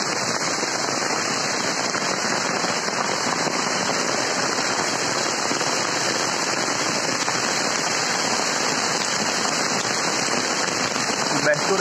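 Heavy rain drums continuously on a small cover over a campsite at an outdoor event in Ceará, Brazil, a loud, close, unbroken wash of sound from start to finish.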